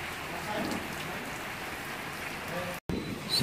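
Typhoon rain and strong wind outside a window in Bataan during Typhoon Quinta, a dense steady hiss of downpour that drops out briefly near the end before resuming louder.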